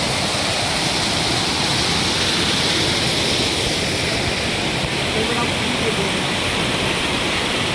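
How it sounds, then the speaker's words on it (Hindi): Steady, dense rush of a waterfall on the Kedarnath trek, filling the whole clip, a constant roaring hiss with no breaks. "ये देखो खूबसूरत झरना।"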